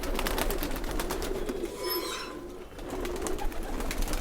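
Many pigeons coo continuously in a loft shed, the soft layered cooing close and steady throughout. A brief rustle passes midway. There is no talk.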